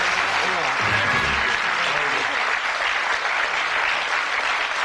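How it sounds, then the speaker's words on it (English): A studio audience at a 1982 Bullseye game show recording applauds steadily as a dense, sustained wash of clapping with no gaps, while a voice talks briefly under the opening of the applause. "Give them a nice round of applause"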